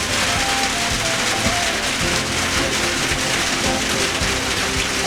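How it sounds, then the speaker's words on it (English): Steady rain falls around an outdoor village cooking spot in Africa, a dense, even hiss with scattered drops and patters throughout, close and fairly loud, with no talking. "it's raining"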